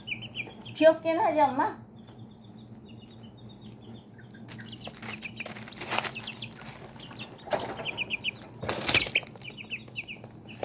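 Soft peeping and chirping of pheasant-chicken hybrid chicks and tiny Serama chicks, short scattered calls at close range, with a brief flutter and people talking quietly in Korean over them.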